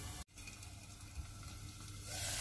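Potatoes frying in a covered pan over a medium flame give a steady, soft sizzle with a faint hiss, continuous and fairly quiet, after one brief clatter near the start.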